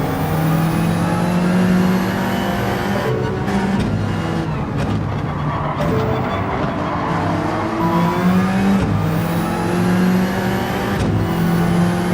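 Alfa Romeo 4C GT3 race car in Gran Turismo 7 during a 24-hour endurance race at the Nürburgring: a loud, continuous engine roar that rises and falls through gear shifts and throttle changes across the whole stretch, with no talking.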